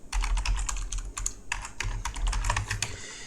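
A computer keyboard is typed on in quick, uneven bursts of clicky keystrokes, close and fairly loud, with brief pauses between runs over a low rumbling background.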